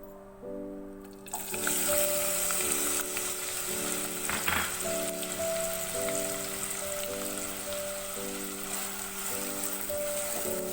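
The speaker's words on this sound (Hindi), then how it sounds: "ऑयल हमारा गर्म हो जाएगा तो हम इसमें प्याज डालेंगे।" Sliced onions drop into half a cup of hot oil, bursting into a sudden loud sizzle after a brief quiet moment, then crackling steadily up close over a faint sustained tonal hum.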